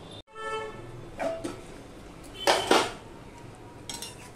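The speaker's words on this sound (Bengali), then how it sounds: "আর একটুখানি আমি ঢাকা দিয়ে দিলাম।" A metal lid is set onto a pot of simmering fish curry with tora root, giving a quick clatter and a couple of clinking metallic knocks over a low background hiss.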